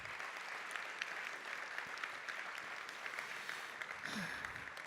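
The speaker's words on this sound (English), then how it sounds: "So give them a round of applause one more time." An audience at a school gala applauds steadily, a soft, even wash of many hands clapping heard from a distance throughout, with no voices on top.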